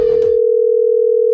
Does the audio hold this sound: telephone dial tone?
yes